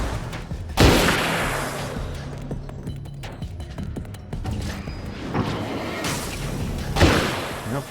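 Grenade explosion in the action game Alan Wake's American Nightmare, a sharp loud blast among several thumping impacts and mechanical clatter, with a second strong hit near the end.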